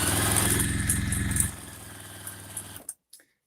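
A sewing machine stitches a quarter-inch seam through fabric, a steady rapid mechanical whir for about a second and a half, then a softer hum, a few light clicks and a stop.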